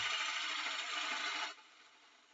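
A wood lathe chisel rides the bevel into spinning wood, giving a steady, soft scraping hiss for about a second and a half before it eases into a quieter whir.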